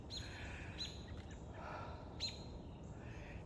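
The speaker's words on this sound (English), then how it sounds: "Listen to the birds." Birds chirp outdoors in a few short, bright calls spaced a second or so apart, over a steady low background hiss.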